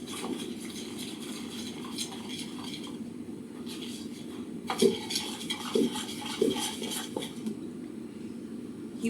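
A spoon stirs plain flour and cold water together in a bowl, giving a soft, steady scraping swirl with a few brief clinks against the side. The sound is close, fairly quiet and has no talking.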